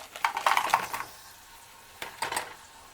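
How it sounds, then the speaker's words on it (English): Shrimp go into bubbling oil in a pan: two short clusters of clattering, sizzling bursts, the first longer and louder, separated by a quiet stretch of low bubbling. "we're going to go ahead and put our shrimp in"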